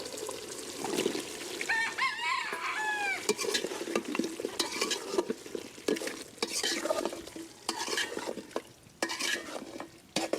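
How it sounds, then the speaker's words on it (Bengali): Potatoes are stirred into beef curry in a pan, sizzling steadily while a spoon scrapes and clatters against the metal in irregular bursts, with no talking. "তো আলু দিয়ে আর একটু নাড়াচাড়া করে নিচ্ছি"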